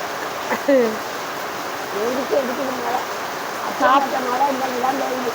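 Steady rain falls in a broad, continuous hiss throughout, with a few voices talking over it at moderate level.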